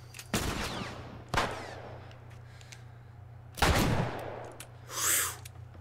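Gunfire in The Last of Us Remastered: three loud single shots with sharp cracks and short rumbling tails, spaced irregularly, followed by a brief softer whooshing burst near the end over a steady low hum.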